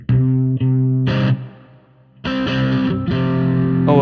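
An electric guitar in drop C tuning runs through the Major Strat Vibes preset of a Neural DSP Quad Cortex. A few sustained chords ring with chorus, separated by a brief quiet gap, close and alone.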